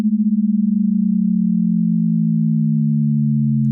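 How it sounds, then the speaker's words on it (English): Two pure sine tones sounding together, nearly matched in pitch, producing a steady low drone with rapid dissonant beating that throbs continuously and slows slightly as the tones drift, heard alone and fairly loud. "when 2 sine waves are close to each other in frequency, but not close enough to sound the same"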